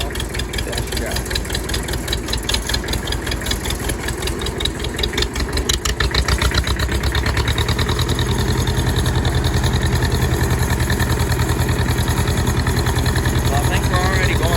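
An International truck engine pulls away after the park brake is released, a loud, close, pulsing diesel-like rumble that thickens into a steadier, heavier drone as it gets moving, with a voice talking over it.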